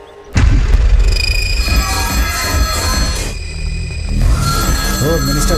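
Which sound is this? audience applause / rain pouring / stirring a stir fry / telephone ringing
telephone ringing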